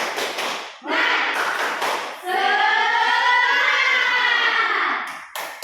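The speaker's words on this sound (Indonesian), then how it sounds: "Tepuk semangat dulu ya." A school class performs the 'tepuk semangat' rhythmic clap chant, with bursts of group clapping mixed with children's voices chanting together, loud and close in a classroom.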